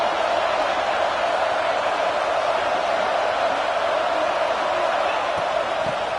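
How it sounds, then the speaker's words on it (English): Crowd noise from a stadium in a football video game, a dense, steady roar rising during a red-zone defensive stand, sustained and loud throughout with no break. "here comes the noise. This crowd is trying to inspire this defense to make a big red zone stop."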